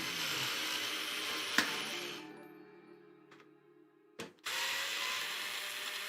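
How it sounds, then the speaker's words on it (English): An electric auto screwdriver drives screws while PC case fans are installed, whirring steadily, then slowing and winding down, followed by a brief clack and a return of the whirring buzz. "Watch my battery die on my auto screwdriver"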